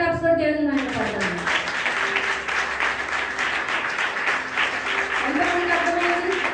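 An audience in a church service claps loudly and steadily, a continuous dense patter of many hands, while a preacher's voice speaks over it at the start and again near the end.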